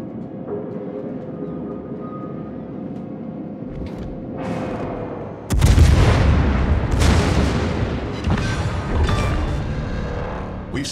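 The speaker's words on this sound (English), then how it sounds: "Concentrate fire on the enemy warship." Warship guns fire in the World of Warships naval battle game, heavy booming salvos with rumbling impacts over a constant engine drone, loud and repeated with no talk.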